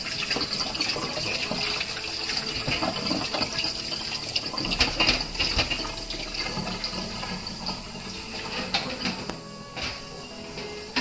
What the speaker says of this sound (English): Wash my tomatoes.